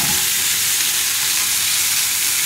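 Chicken breasts sizzle and crackle steadily in a hot pan, a dense, even hiss close by with no talking.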